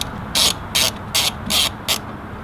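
A ratchet loosens bolts during a Forge Motorsport blow-off valve install on a Mk7 GTI, giving five short, crisp bursts of clicking pawl at an even rhythm, close up and loud over a low hum.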